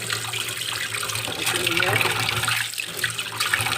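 Fish are rinsed by hand under running tap water in a home kitchen: a continuous splashing flow with irregular sloshes as the fish are turned and rubbed, close and moderately loud.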